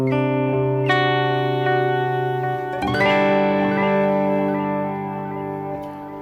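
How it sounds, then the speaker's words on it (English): An electric guitar runs through the Line 6 Helix Glitz modulated reverb, sustained chords ringing with a shimmering, wavering wash and long trailing decay, a new chord struck midway. "let's go with a modulated reverb, which is the glitz pedal"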